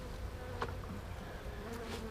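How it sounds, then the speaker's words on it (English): Honey bees buzz steadily in an open beehive, a faint, continuous drone with a few bees passing close by. "lot of bees in here."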